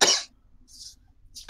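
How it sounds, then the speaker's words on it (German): One sharp cough bursts out at the start, followed by a short quiet breathy pause and a softer second cough-like sound near the end. "Fängt an zu husten."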